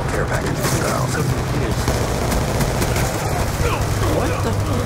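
Call of Duty Black Ops 2 gunfire: dense, continuous rattling bursts of automatic weapons in a loud, sustained firefight with explosive booms mixed in.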